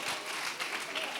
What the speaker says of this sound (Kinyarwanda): amashyi menshi ku gihugu cyacu.